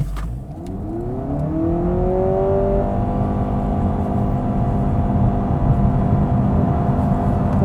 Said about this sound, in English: if you brake boost and kind of launch it, it just sounds like a normal CVT